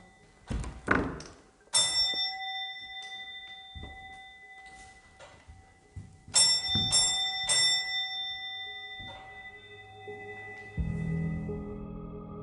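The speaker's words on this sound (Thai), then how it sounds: "ได้ยินเสียงกระดิ่งที่มันดังออกมาเองเป็นการต้อนรับเขา" A bell rings by itself as a spooky ghost-story sound effect, bright metallic chimes struck in separate bursts and left to ring out, mixed with heavy thunks and thuds in an eerie, otherwise quiet scene.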